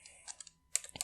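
Scattered clicks of typing on a computer keyboard during an automation tutorial: a few quiet keystrokes, then a short pause and a brisker burst of taps, close and alone with no talk.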